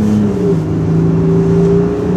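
A 4x4 engine pulls hard under heavy acceleration, its steady rising drone loud and close from inside the vehicle, with no voices over it.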